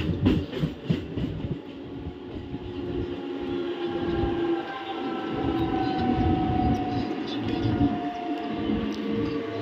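A local train on the Howrah to Midnapore line pulls into Panskura Junction. Its loud, continuous rumble and rattle of wheels and carriages stays steady throughout, with faint tonal squeals riding over the din.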